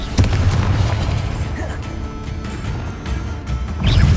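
Confringo fire spell explosions in the Hogwarts Legacy video game, heavy booming blasts that rumble through nearly the whole stretch amid dense game noise, swelling again loudly at the end.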